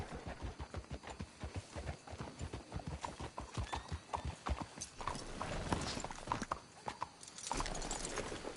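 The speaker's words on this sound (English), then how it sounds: "Let's hitch the horses up ahead." Horses' hooves clip-clop in a steady, brisk rhythm in the Western video game Red Dead, with a horse whinnying partway through and wagon and ambient game sounds underneath.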